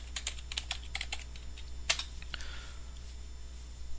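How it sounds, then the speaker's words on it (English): Quick, light tapping on a computer keyboard as a username and password are entered, a short burst of crisp keystrokes with brief pauses, close and quiet against a faint steady hum. "Then go ahead and enter your username and password."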